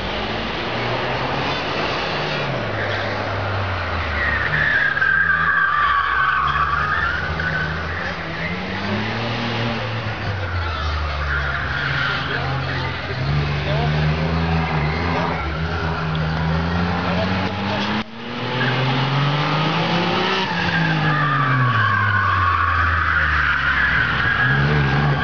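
A rear-wheel-drive Alfa Romeo 156 and an Alfa Romeo 145 1.9 JTD race at an Italian car festival, with loud, continuous engine revving, rising and falling through gear changes, and people talking over it.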